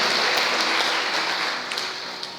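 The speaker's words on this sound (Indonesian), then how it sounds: "Boleh tepuk tangan dulu buat Tuhan kita yang dasarnya Tuhan Yesus." Church congregation applauding during a Sunday morning service at GPdI GAMA 45 Pontianak: a loud, continuous wash of clapping that holds steady and eases slightly near the end, with a few sharper individual claps.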